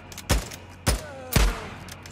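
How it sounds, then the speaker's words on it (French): Three loud, sharp gunshots from the video game Days Gone, evenly spaced about half a second apart, each with a brief ringing decay, and no talking over them. "Plusieurs coups de feu ont été tirés."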